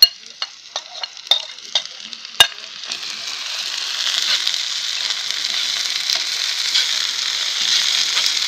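A few sharp metallic clinks, then a steady hiss of onions frying in a heavy cauldron-style pot that grows louder and fills the rest of the clip.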